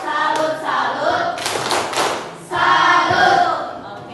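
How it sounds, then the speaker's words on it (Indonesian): Students clap a rhythmic tepuk salut pattern in a classroom, bursts of hand claps and thumps in chanted sections, loud and close with voices joining in the rhythm. "Boleh kasih tepuk salut, tahu tepuk salut?"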